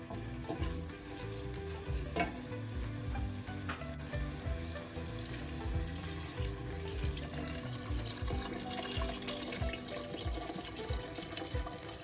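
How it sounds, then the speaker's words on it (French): Hot water is poured into a bubbling tomato and spice sauce for Moroccan couscous, raising a busy sizzle mixed with splashing and stirring that runs steadily and fairly quietly, with no speech. "Je vais ajouter de l'eau chaude."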